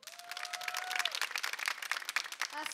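Audience applause in a studio hall welcoming a Ukrainian composer onstage, dense steady clapping throughout with a brief tonal musical sting over it.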